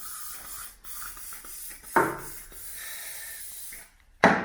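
Aerosol lubricant hisses in short bursts as it is sprayed into a cable tube on a Crypton Motorscope 335, with a few sharper spurts and brief pauses between them.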